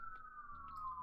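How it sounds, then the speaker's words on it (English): Siren of an emergency vehicle outside, a single long steady wail gliding slowly downward in pitch, moderately loud and heard on its own. "I'm sorry about the sirens, guys."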